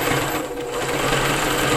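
A domestic sewing machine stitches fabric for dimensional pieces, running steadily for a short burst. The whir stays close, even and continuous, with no talking.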